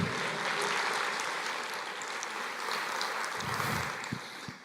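A seated church congregation applauds in worship, a fairly faint, even wash of clapping heard from some distance that continues through the whole stretch with little change.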